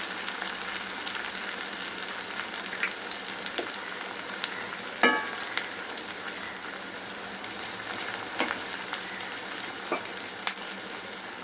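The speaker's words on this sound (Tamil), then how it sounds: "அதோட ஆனியன் ஆட் பண்ணுறேன். பூண்டு ஆட் பண்ணுறேன்." Onion and garlic fry in hot oil for a Tamil bean kuzhambu, a steady close sizzle throughout with a few faint clicks of stirring and no talking.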